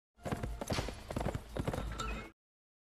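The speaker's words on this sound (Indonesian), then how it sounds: "Di tengah hutan, pelayan Ouyang Ke menghentikan kereta kuda" Horse-drawn carriage on a forest road: a rapid flurry of close clip-clopping hooves with a brief whinny, a short sound effect that starts and cuts off cleanly against silence.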